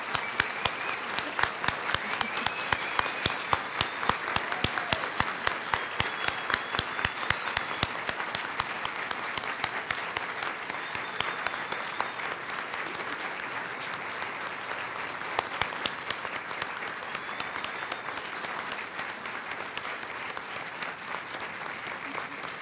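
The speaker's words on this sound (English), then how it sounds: "I would just invite all of us to stand and applaud this wonderful colleague and her career" A standing audience at a palliative nursing leadership lecture gives sustained applause, dense and even clapping that carries on steadily for over twenty seconds without a break, fairly loud and close.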